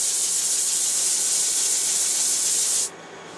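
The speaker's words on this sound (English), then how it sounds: ".180 grit Siaflex." Sanding disc fitted with 180 grit Siaflex abrasive, a steady bright hiss of abrasive on a surface that stops abruptly near the end, close and without talk.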